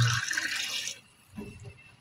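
Water poured into a pan while cooking sotanghon noodles with salmon: a bright rushing pour for about a second, then quieter low splashing and bubbling in the pan.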